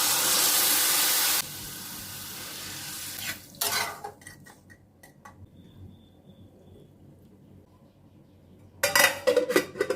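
Tamarind water poured into a pan of crab and okra curry: a loud broad splash and stir for the first seconds, then quieter clinks and sizzling, with another burst of utensil clatter near the end.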